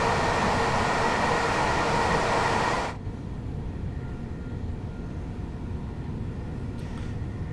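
A long London commuter passenger train climbs toward Brighton in Train Sim World 4, loud and full of bright rail hiss at first, then dropping abruptly to a duller, steady low rumble.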